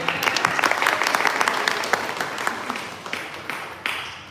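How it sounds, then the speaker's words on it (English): A forum audience applauds steadily with dense, overlapping clapping that holds loud and then tapers slightly toward the end. "give yourself a hand clap"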